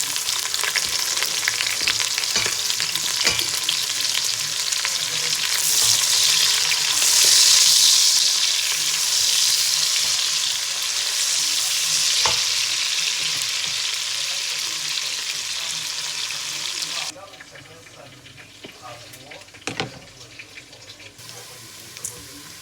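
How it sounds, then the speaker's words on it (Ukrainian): Onion sizzles in a pan with Ukrainian pork belly for red borscht, a loud, close, continuous frying hiss with stirring that suddenly drops much quieter near the end. "Ах, яка смачна українська почеревинка. Кидаємо цибульку."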